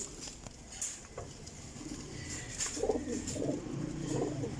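Soft, low Kasuri pigeon cooing repeats in short rounded phrases over steady background noise, with a few faint chirps higher up.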